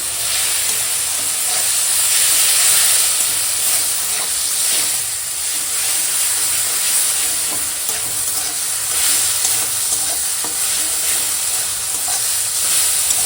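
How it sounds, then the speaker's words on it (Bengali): Sliced raw mango frying in a mustard-seed tempering in hot oil with salt and turmeric: a loud, dense, continuous sizzle and hiss close to the microphone, steady throughout with no talking. "আমটা ফোড়নের সঙ্গে সুন্দর করে একটুখানি সময় ভেজে নিয়েছি"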